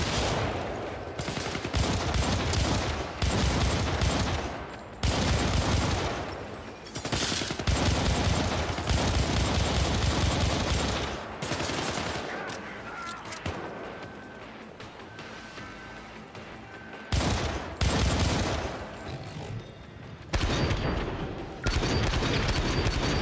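Video game Syndicate firefight: dense bursts of gunfire and automatic weapons fire with booming impacts, loud and continuous for most of the stretch, pausing briefly between volleys.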